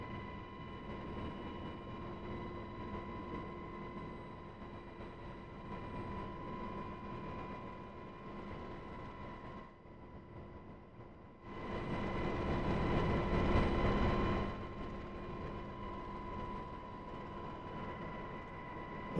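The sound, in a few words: UH-60L helicopter taxiing, from video game DCS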